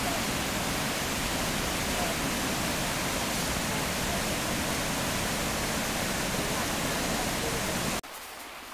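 The River Esk in Glen Esk rushes beside a walking path as a loud, steady broadband roar of flowing water that continues unbroken, then drops sharply to a quieter wash near the end.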